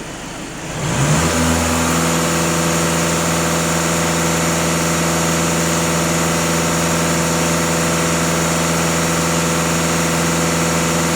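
A VW Passat 2.0 TDI diesel engine revs up in the first second, then holds a loud, steady high-rpm roar with a constant hum.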